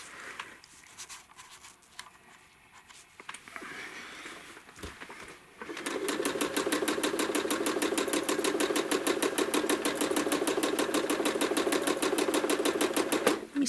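A sewing machine doing freehand feather quilting starts in a quiet room with faint handling sounds, then runs continuously at a fast, even stitching rhythm for the second half, close and steady.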